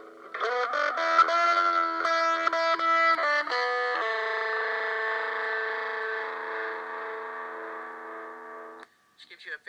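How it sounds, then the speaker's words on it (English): A gritty distortion effect processes a sustained instrumental tone, first in short choppy chords and then in one long buzzing, harmonically rich held note that cuts off abruptly, leaving near silence. "Which gives you a very gritty sound."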